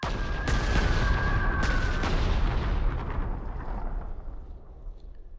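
Strategic bomber strike on an anti-tank gun in the World War II strategy game Panzer Corps 2, a loud rumbling explosive barrage with a few sharp blasts early on, slowly fading into a low roar.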